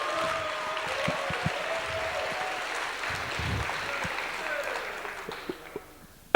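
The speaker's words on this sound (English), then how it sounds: "So give Microsoft a round of applause for helping with the meals" Hackathon kickoff crowd applauding a meal sponsor, a wash of clapping that holds steady and then thins and fades toward the end.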